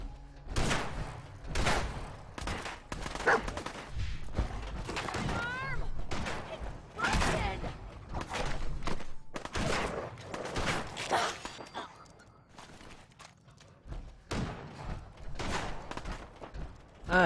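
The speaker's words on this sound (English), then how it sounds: "I still hear gunshots." Gunfire in Fallout 4 crackles as repeated sharp, loud bursts and scattered single shots throughout, with some thuds mixed in and a pause near the end.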